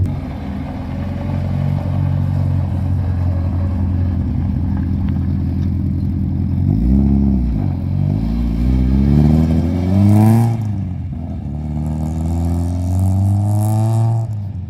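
Rally car at a Sastamala rally, close and loud, rumbles low then revs hard through several rising gear pulls with sweeping pitch climbs, engine clatter and crackle under the roar.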